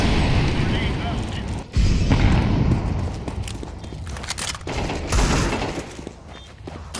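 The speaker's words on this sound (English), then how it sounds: "Grenade out." A grenade is thrown and detonates in Counter-Strike 2, a sharp, loud boom near the two-second mark followed by lighter bursts and game noise, with gunfire-like crackles and another heavy blast later.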